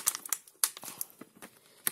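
A plastic packet of collectible How to Train Your Dragon figures is torn and rustled open up close, with quick crinkles, rips and papery snaps in short irregular bursts.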